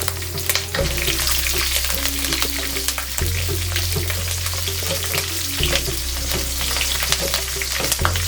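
Oil sizzles and crackles steadily in a pan close by as dried red chillies, green chillies and curry leaves fry for tempering, a constant frying hiss with occasional stirring sounds and a low background hum.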